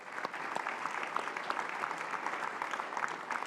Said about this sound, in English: how about a round of applause for them as well?